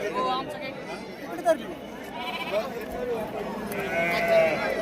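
Goats bleat repeatedly, a few sharp calls rising over a crowd of people chatting nearby at a goat and sheep market in Shirur, Pune district.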